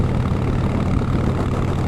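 Harley-Davidson Fat Boy motorcycle engine idling with its old, loud exhaust fitted, a steady close-up low rumble with even pulsing throughout.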